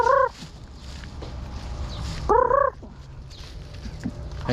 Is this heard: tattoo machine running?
no